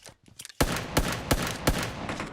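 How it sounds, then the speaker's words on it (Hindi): A pistol firing rapidly in the video game PUBG Mobile, four loud, sharp shots in a quick, even rhythm after a few faint clicks, with no talking. "कपड़ा उठाता हूँ और ये पिस्तौल उठाता हूँ। अब चला के देखते हैं आखिर कितना तेज चलने लगी है अब ये गन।"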